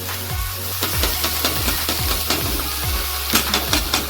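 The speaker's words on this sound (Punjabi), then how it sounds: "ਹੁਣ ਆਪਾਂ ਇਹਦੇ ਵਿੱਚ ਪਿਆਜ਼ ਐਡ ਕਰਨ ਜਾ ਰਹੇ ਹਾਂ" Onion going into ginger and garlic already frying in a pan for Punjabi sarson da saag, a steady close sizzle with repeated sharp scrapes and stirring knocks at a regular pace, no talking.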